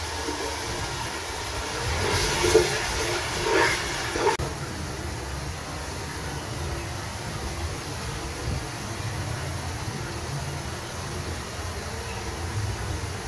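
Chopped onion dropped into about one and a half cups of hot oil, a steady broadband sizzle with a brief crackling burst at first, then an even hiss.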